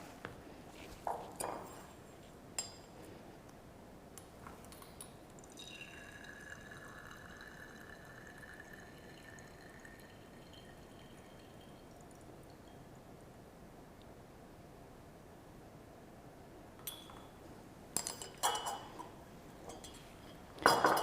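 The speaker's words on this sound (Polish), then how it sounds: "Przede mną próbówka, do której wleję około 5 ml roztworu dichromianu." About 5 ml of potassium dichromate solution is poured into a glass test tube, giving a faint trickle with a rising filling tone, framed by quiet clinks of glassware in a hushed room.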